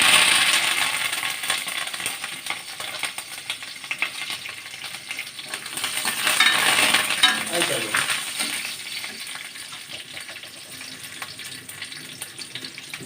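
Curry leaves and garlic sizzle and crackle loudly in hot oil, a dense, steady frying hiss with a sharp burst of spattering midway as the leaves hit the pan, no talk.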